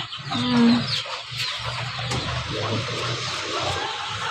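Farm hens, desi chickens including a laying hen, cluck in a steady low chatter with a brief louder call near the start, against a busy outdoor background.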